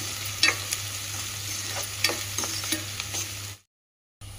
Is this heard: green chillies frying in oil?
yes